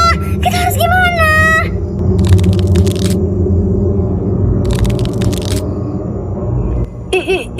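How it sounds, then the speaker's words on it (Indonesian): Sharp cracking of a neck bone in a Sakura School Simulator horror scene, heard as several bursts of crackling crunches over a low, rumbling eerie background, with a warbling tone near the start. "Itu suara tulang lehernya."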